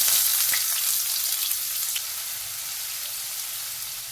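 Steady, even sizzle of mustard seeds, a pinch of asafoetida, cumin and finely chopped onion frying in hot oil for spicy Khandeshi shev bhaji, with a few faint pops and stirs and no talking.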